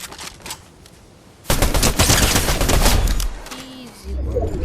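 Weapon gunfire in the Fortnite video game, a loud dense burst of rapid shots near the listener lasting a couple of seconds, then a quieter pause and renewed noise, no talk.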